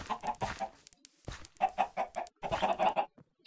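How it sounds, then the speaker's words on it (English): Chicken clucking in the Minecraft block hunt game comes in quick nasal bursts, a run of close clucks, a short pause, then more clucking with no talk over it. "Oh, that's a chicken!"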